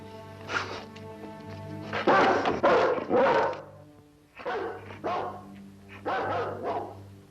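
A dog barks repeatedly in loud bursts of several close, deep barks, pausing briefly between volleys, over a low steady background hum.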